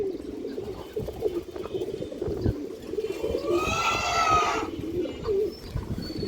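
Indian high flyer pigeons, black-tailed, coo softly over a busy, rustling background, with one clearer drawn-out coo standing out midway.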